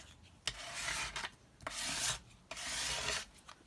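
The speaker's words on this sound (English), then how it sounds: "So just spreading the glue out first of all with the glue spreader, like that." Glue spread across a wooden back piece with a glue spreader while making a box frame, three long rasping scrapes with brief pauses between them, close and fairly loud, with no voices.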